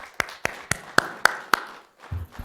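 A few people at a city council candidate forum clap in a steady, sparse rhythm, six or so sharp claps close by, then a short murmur of voices.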